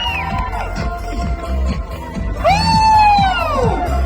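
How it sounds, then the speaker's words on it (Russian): Spectators at a festive New Year children's program with Ded Moroz cheer on a race: loud, excited shouting and high-pitched whoops from children and the crowd, rising to a sustained squeal midway. "А зрители поддерживают аплодисментами."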